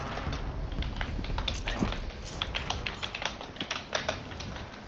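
Rapid keyboard typing during a Warzone 3 Plunder match, a dense, steady patter of close key clicks with no talking over it.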